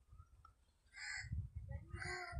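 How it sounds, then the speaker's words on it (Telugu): Birds call near an almond tree outdoors, with two loud harmonic caws like crows around the middle and end of the clip over a low rumbling background. "పక్షుల సౌండ్లు అయితే ఎంత బాగుంటాయి అసలు."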